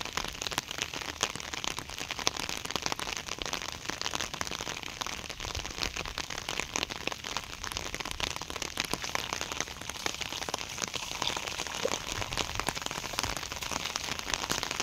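Steady rain falls on a flooded construction site by a broken water-blocking embankment, a dense, even patter throughout with no talking.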